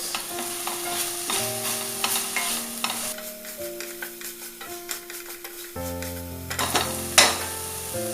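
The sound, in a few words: stirring food in a pan while cooking bottle gourd gravy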